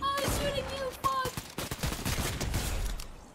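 Gunfire in the Fortnite video game comes as a rapid, loud burst of overlapping shots with sharp cracks, preceded by brief tonal game effects, and no talk.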